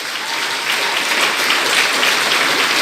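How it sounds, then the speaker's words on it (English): A graduation audience at Monroe College's 2024 ceremony applauds the faculty, a dense, steady wash of many hands clapping at once that holds through the clip with no talk over it. "Please give them a giant round of applause."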